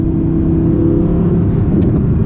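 An Audi R8 engine drones loud and close through the cabin in dynamic mode during a rough downshift to second, a steady low rumble with a slight rise in tone and no talking.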